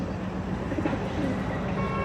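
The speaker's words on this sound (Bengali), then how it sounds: "পায়রা দেখো, এই পায়রাটা কী পায়রা আমি সঠিক জানি না, আর দেশি পায়রার মতো তো লাগছে।" A local domestic pigeon cooing softly amid steady outdoor background noise, low repeated coos at moderate distance.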